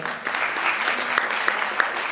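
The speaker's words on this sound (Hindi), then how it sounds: "एक बार जोरदार तालियां हो जाएं" Brief, moderately loud clapping from an audience at a Hindi stage play performance, a steady patter with a few sharper individual claps standing out.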